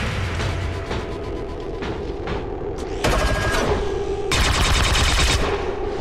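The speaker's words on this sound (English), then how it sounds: "we now have a full barrage of reaction fire coming in" Rapid barrage of reaction gunfire in the turn-based strategy game XCOM 2: War of the Chosen, loud overlapping shots and bursts layered into dense volleys that swell toward the end, with no talking.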